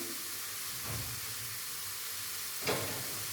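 Onions, garlic, chili and turmeric frying in oil, a steady soft sizzle and hiss throughout with a couple of brief louder stirring bursts, no talking over it.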